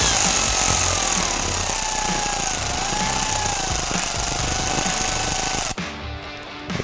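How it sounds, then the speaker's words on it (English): A size 11 socket on a power tool spins the nut off the positive battery terminal of a Ford F150 Raptor, giving a loud continuous whirring grind that cuts off abruptly near the end. "Take the nut off."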